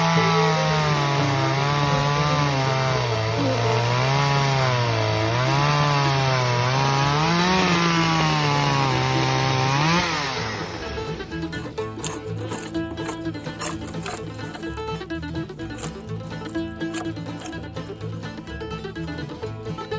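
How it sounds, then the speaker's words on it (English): A loud small chainsaw mounted on a jig whines steadily, its pitch rising and falling as it bites into cabin logs, then drops to a rougher, rattling idle. "This little chainsaw we got rigged up here"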